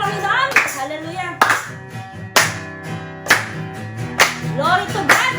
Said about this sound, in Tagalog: Kaya, palakpak po tayo sa Panginoon.